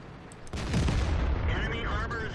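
A tank cannon fires in World of Tanks, a loud sharp boom followed by a rumbling decay and a ringing tail over game ambience.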